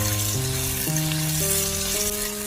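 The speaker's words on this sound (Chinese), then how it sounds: "油热之后把洋葱加进来， 把肉丁也加进来，翻炒出洋葱的香味" Diced meat and onion stir-fried in hot oil in a wok give a continuous hiss of frying, with background music playing over it throughout.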